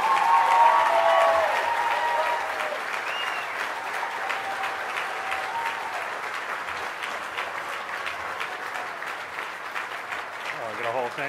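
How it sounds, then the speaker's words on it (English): Sustained applause from a dinner audience welcoming an honoree at a 40th anniversary dinner, loud at first and then settling into steady clapping for several seconds, with talk briefly over the start. "please help me welcome with a round of applause, a really good one"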